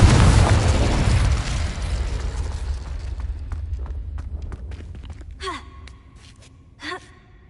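Incendio fire spell cast in Hogwarts Legacy, a loud burst of roaring flame and blast at the start that slowly fades into a lingering rumble, followed by two short gasps or vocal sounds later on.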